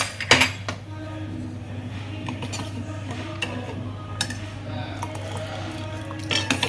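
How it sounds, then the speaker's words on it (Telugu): Semiya being stirred in a pan over a low flame on a gas stove, a steady kitchen hum beneath scattered metallic scrapes and clinks of a spoon against the pan, with a sharper clatter near the start and end. "టెన్ మినిట్స్ వరకు మనం కలుపుతూనే ఉండాలి. లో ఫ్లేమ్ అండి, లో ఫ్లేమ్లో కలుపుతూనే ఉండాలి."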